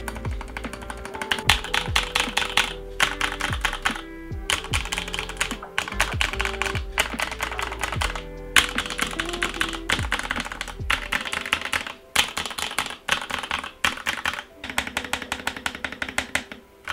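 Fast, continuous typing on a white GK61X mechanical keyboard with lubed, holee-modded and Band-Aid-modded stabilizers, dense clacky keystrokes in bursts with short pauses, close and crisp, no talking.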